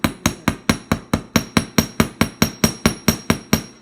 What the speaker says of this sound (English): Hammer that, and that so that it doesn't go all the way through your ear hole.